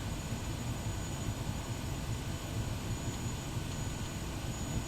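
Kodiak 100 turboprop taxiing in Microsoft Flight Simulator, a steady droning engine hum with broadband whoosh, constant and moderately quiet, no talk.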